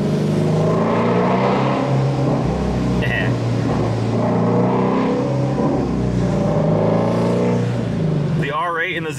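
A Ford Mustang with a flat-plane-crank Voodoo 5.2-liter V8 revs and rumbles steadily in the background while someone talks over it, and a short sharp burst of engine sound comes near the end.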